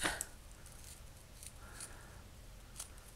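A small metal pin on a scrap-embellishment craft piece is snipped flush, heard as a few quiet, crisp cutting clicks spread across a faint background.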